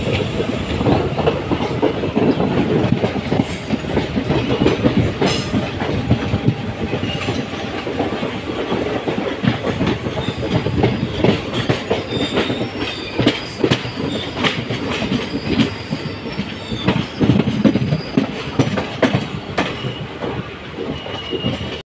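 The Silchar Express train rumbles steadily near Kamakhya station, with clattering wheels and occasional squeals, loud and continuous throughout with no talking.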